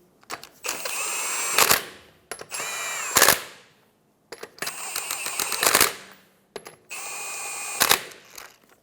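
A power tool tightens the wheel lug nuts on a 2014–2019 Toyota Highlander in four separate bursts, each a loud, close, whirring rattle that ends in a sharp hammering impact before a short pause.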